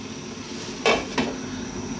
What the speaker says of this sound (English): Okay, lid on.